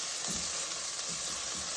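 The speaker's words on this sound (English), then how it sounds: "So now what we want to do is we want to also fry off the kimchi." Kimchi frying with shallots in a pan for a creamy kimchi pasta sauce, giving a steady, close sizzle that holds at an even level throughout with soft stirring bumps underneath.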